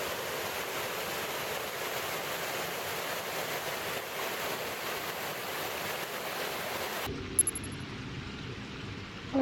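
A creek flows at a hiking crossing with no bridge on the Nordrum Lake trail, a steady broadband rush of water that cuts off abruptly near the end, with no voices.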